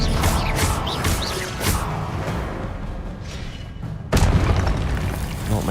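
Spell-casting effects from the video game Hogwarts Legacy, a loud booming magical blast with whooshing bursts and crashing impacts, dense and layered, with a sharp new burst near the end.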